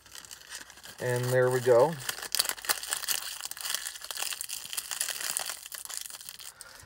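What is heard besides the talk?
peeling protective film off a car's gauge cluster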